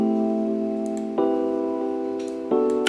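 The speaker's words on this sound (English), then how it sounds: "So with the reverb and the EQ, it sounds like this" Electric piano with the low end cut by EQ and washed in Valhalla Room reverb, sustained chords struck three times at slow even intervals, each ringing out softly with a reverberant tail and no voices.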